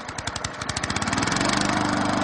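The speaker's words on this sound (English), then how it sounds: "There, it started again." A ride-on lawnmower engine starts up again, its rhythmic chugging pulses quickening and steadying into a continuous close, loud running drone.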